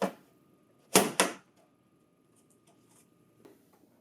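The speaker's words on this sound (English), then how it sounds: "Attach the working shelf to the mounting bracket." Two quick, sharp clicks in close succession as a working shelf is fitted onto the mounting bracket of a CX942/CX943/CX944/XC9445/XC9455/XC9465 printer, followed by near silence with faint small rattles.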